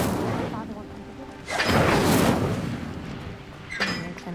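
Incendio fire spell cast in Hogwarts Legacy: a loud burst of whooshing flame roars up and holds for about a second, followed later by a shorter second flare, over a continuous game ambience.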